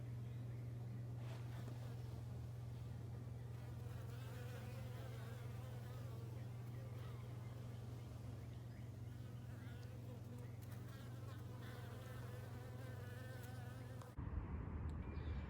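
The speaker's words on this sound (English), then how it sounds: "we found where the bees are actually going in up under the deck" Bees buzz continuously in a faint, steady drone from under a house deck, with a low hum underneath that cuts off abruptly near the end.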